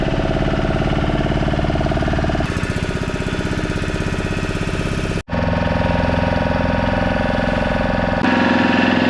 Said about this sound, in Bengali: এখন যে সাইট সিইং এর জন্য যাচ্ছি, মানে বোট রাইড করছি, এইগুলো পুরো মাছ ধরার ট্রলার